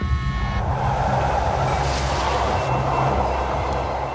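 A train rumbles along the tracks in a steady, continuous roar, with a faint rattle of wheels throughout.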